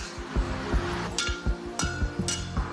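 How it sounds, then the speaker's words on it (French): A blacksmith's hammer strikes a hot metal workpiece at the forge, with about eight sharp ringing blows at an uneven working rhythm and a few brighter metallic clinks, close and alone. "faut vraiment que ton marteau il tape toujours à cet endroit-là et c'est ta pièce qui se déplace"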